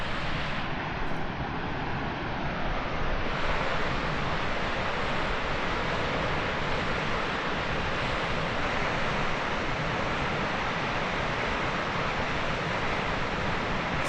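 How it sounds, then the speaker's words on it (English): Ebor Falls on the Waterfall Way in New South Wales, with top falls of 27 meters and lower falls of 63 meters, roars in a steady, dense wash of rushing water heard from a walkway, unbroken throughout. "spectacular waterfall."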